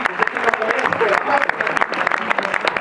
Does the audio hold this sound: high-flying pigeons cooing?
no